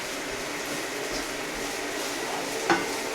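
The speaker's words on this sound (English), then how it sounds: "So medium heat, quick fry to ginger garlic once the onions turn nice and golden" Ginger and garlic sizzling steadily in a pan over medium heat with onions, a dense continuous frying hiss, occasional stirring scrapes and one short metallic clink near the end.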